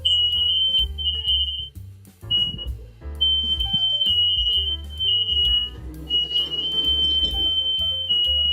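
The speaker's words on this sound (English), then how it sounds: "Oh, the fire alarm is going off." Kitchen smoke alarm set off by the oven during focaccia baking, beeping loudly in a steady repeated tone, with bursts of music or room noise underneath throughout.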